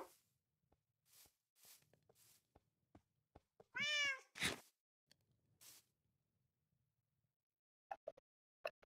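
Cat in Minecraft giving a single clear meow amid scattered short clicks and rustles, close and quiet with no talk over it.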